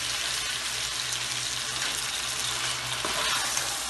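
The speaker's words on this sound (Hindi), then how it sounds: "इसको अच्छी तरह से भूनेंगे कलर चेंज होने तक।" White karahi chicken stir-fried in a pan gives a loud, dense, continuous sizzle and crackle, with a low background hum and a brief stirring clatter near the end.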